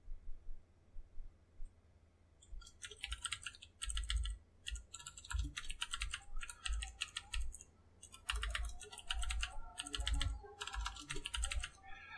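Steady typing on a computer keyboard while entering Java code: close, crisp key clicks in irregular bursts with short pauses between runs, no voice over it.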